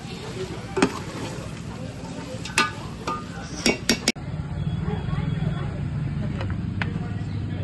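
Pork fry sizzles steadily in a pan with lemon, with a low frying hiss punctuated by several metal clinks of a utensil against the pan. Speech is present under the cooking sounds.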